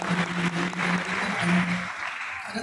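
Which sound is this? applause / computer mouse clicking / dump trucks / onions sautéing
applause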